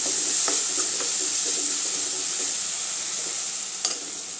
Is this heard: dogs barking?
no